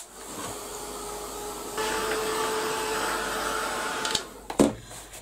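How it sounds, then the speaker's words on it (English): A heat gun blows on a craft piece, a steady whooshing hiss that steps up in strength partway through and then cuts off, followed by a few clunks of handling. "just going to give that a quick blast with the heat gun"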